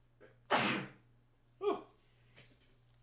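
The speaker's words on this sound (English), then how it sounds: "Sorry for the sneeze there." A single sharp human sneeze bursts out close and clear, preceded by a quick inhale and followed by a brief gasping breath, with a faint background hum.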